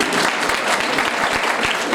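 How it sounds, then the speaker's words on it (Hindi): Strong applause fills a large event hall at a software exposition, a dense, steady wash of many hands clapping throughout, with no speech over it. "तो इनके लिए जोरदार तालियां हो जाएं।"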